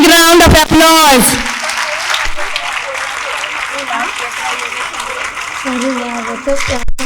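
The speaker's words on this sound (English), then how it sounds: "they deserve a big round of applause" A voice speaks briefly, then a crowd at a children's camp recitation contest applauds steadily for several seconds, a dense, even clapping that tapers near the end.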